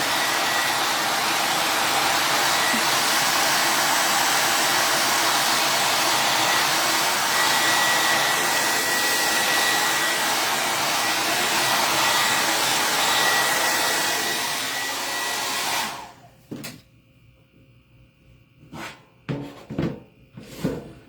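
A hair dryer blows steadily and loudly at close range for about sixteen seconds over a painted craft project, then cuts off, leaving a few faint knocks and handling sounds.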